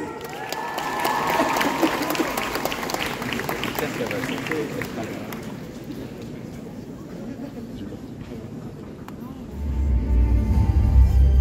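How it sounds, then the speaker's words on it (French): A crowd at a cosplay show stage at Japan Expo Paris applauds the participants, with steady massed clapping and cheering throughout and a louder, heavier swell near the end, mixed with amplified sound. "vous allez me faire un tonnerre d'applaudissements pour nos participants"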